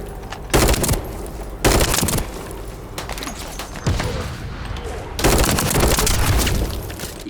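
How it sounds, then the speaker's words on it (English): Rapid weapon fire from The First Descendant comes in several loud, close bursts separated by short quieter gaps, with an ongoing background of game noise. "The shooting has stopped, I see."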